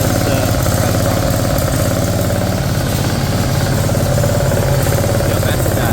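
An Intek V-twin small engine, fitted as a replacement for a blown Kohler Courage, runs steadily at throttle with a loud, continuous mid-pitched drone and throbbing low pulses close by, filling the whole stretch without a break.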